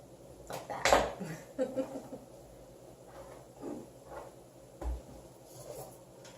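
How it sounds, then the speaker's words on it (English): Metal Texas cupcake pans clank and rattle as they are handled in a kitchen while baking vegan apple turnovers, giving a few scattered knocks and scrapes at low volume. "these are Texas cupcake pans"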